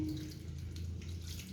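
Water running from a tap and poured over grated potatoes in a mesh strainer, a steady close splashing stream lasting throughout with a low hum beneath.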